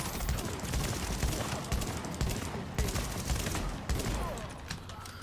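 Dense, continuous gunfire and impacts fill a tense firefight in the video game The Division, with shotgun blasts blending into a steady wash of rapid shots and debris at moderate volume.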